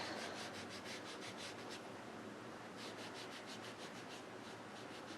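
Pacific Point ink rubbed vigorously onto a paper card to fill in a strip, a continuous dry scrubbing friction with a rhythmic back-and-forth pulse, close and steady.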